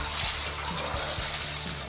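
Cold water poured over dried chickpeas in a bowl to soak, a steady hissing, splashing pour heard close up and alone, with no talk.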